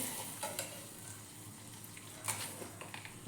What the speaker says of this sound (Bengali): একটু চিনিটা ভাজা ভাজা হবে